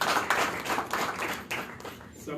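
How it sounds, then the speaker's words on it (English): An audience at a 2024 media startup event claps, with a patter of hand claps running beneath and alongside a voice speaking throughout. "I think the women should clap here."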